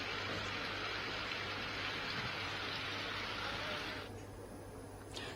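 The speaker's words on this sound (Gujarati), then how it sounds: "કેશોદમાં વહેલી સવારથી વરસાદી માહોલ જામ્યો છે" Heavy early-morning rain falls in Keshod, Junagadh, Gujarat, a dense, steady hiss of downpour that softens somewhat near the end, with no voices.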